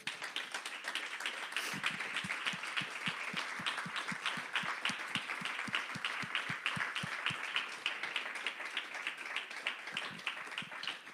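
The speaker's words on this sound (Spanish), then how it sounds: "Dele un aplauso al Señor." A church congregation claps during a Sunday service, a rhythmic, roughly even beat of many hands that dominates the whole stretch at moderate distance.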